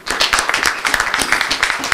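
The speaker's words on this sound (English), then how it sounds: "give him a nice warm round of applause" Audience applause at a business talk on rebranding a directory business, dense continuous clapping from a room full of people, close and fairly loud throughout.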